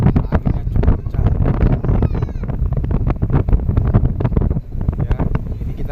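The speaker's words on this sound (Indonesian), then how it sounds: "anginnya cukup kencang" Strong wind buffets the microphone on a ferry deck crossing from Merak to Bakauheni, a loud, gusting roar that continues throughout with low rumbling and flutter.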